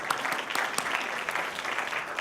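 Brief clapping from an audience at an awards night, a scattered patter of hands with a few sharper claps standing out, fairly close and moderate in level.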